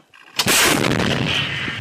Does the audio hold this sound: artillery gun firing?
yes